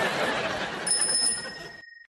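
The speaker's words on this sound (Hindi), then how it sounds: "ये साइकिल की घंटी किसने दी है?" A bicycle bell gives one bright ring that lingers and fades alone after a brief busy stretch of room sound, with no talking over it.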